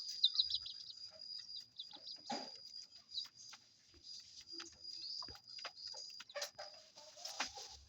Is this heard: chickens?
yes